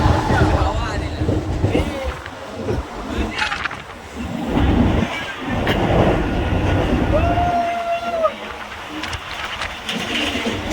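A train rumbles steadily along the tracks with a rhythmic clatter, joined briefly by a high squealing tone near the end.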